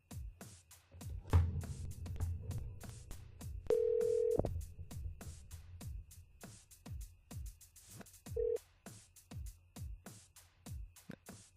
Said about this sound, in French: Alors, du coup, Miro compose le numéro.